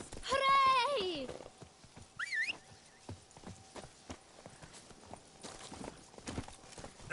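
The horse Roach clip-clops in The Witcher 3 in a soft, steady rhythm of hoofbeats, with a short whinny early on. Game dialogue and voices run over the hooves.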